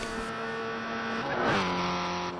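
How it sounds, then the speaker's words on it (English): Race car in a GT racing game scraping along a wall on a Tokyo R246 street circuit, a steady engine drone that swells into a brief grinding, sliding burst midway before settling back. "A bit of a grind into that wall."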